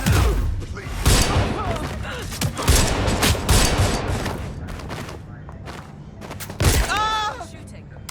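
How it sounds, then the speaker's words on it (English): Gunfire in the video game Watch Dogs Legion, with rapid bursts of shots and heavy thuds and booms throughout, loud and close, mixed with game voices and noise. "Shooting."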